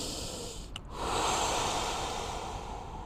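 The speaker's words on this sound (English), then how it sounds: "I'm gonna stay here and I'm gonna practice breathing." Slow, deep breath during a seated mind-body floor exercise, a soft airy hiss that briefly catches, then swells into a long, steady exhale close to the microphone, with nobody speaking.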